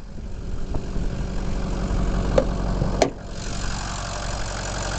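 A Ford Excursion SUV engine idles steadily after starting, with a low continuous rumble, a couple of sharp clicks or knocks partway through, then settling into an even hum.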